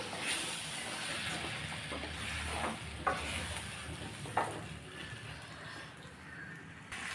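Ground masala and vegetables for sambar sauté in a pan, a soft continuous sizzle broken by a few sharp clinks and scrapes of a stirring spoon, close and fairly quiet.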